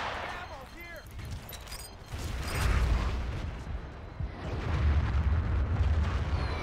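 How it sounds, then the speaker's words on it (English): A grenade explodes in the Battlefield game map Strike at Karkand, a loud rumbling blast that swells and lingers amid ongoing gunfire and battle noise, with a brief voice early on. "Oh, got him with the grenade."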